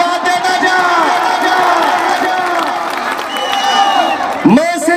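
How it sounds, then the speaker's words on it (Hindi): A large open-air crowd at a political rally cheers and shouts loudly and continuously, with voices calling out over the steady roar. "ताली बजा के आशीर्वाद देता जा"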